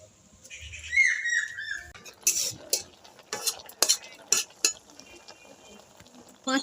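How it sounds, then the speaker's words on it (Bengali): Eggs are stirred and turned over while boiling in a kadai on a stove, producing sharp metallic clinks and scrapes at irregular intervals, preceded by a brief high chirping sound. "এবার ডিমটা উল্টে পাল্টে সেদ্ধ করে নেব।"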